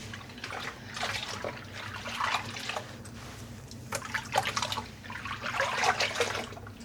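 A skein of freshly dyed strawberry-and-cream yarn is rinsed and squeezed in water, giving close sloshing, dripping and squelching in uneven waves over a steady background hum, with no voices.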